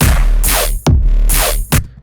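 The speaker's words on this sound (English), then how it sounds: "basic 808, basic offbeat kind of gritty bass here" A basic electronic drum loop with a booming 808 and a gritty offbeat bass, playing in a steady, loud two-bar rhythm with sharp hits and no vocals.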